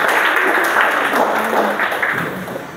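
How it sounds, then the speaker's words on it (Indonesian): Applause from a classroom audience during a teaching session, a fairly loud patter of clapping from a modest group across the short stretch, with some voices mixed in. "tepuk tangan untuk"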